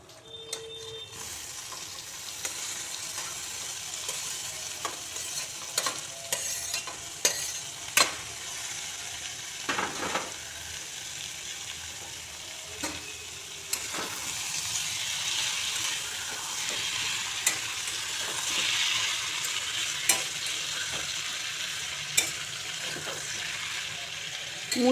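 Chopped radish stir-fries in a hot pan for a prawn curry, with a steady sizzle under scattered clinks and scrapes of a spatula or spoon stirring against the metal, moderately close and continuing throughout.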